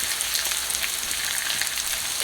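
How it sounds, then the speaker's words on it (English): Onions simmer in a pan with a steady, dense crackling sizzle, close and continuous, with no voices over it. "you want to let these just simmer for about 30 minutes"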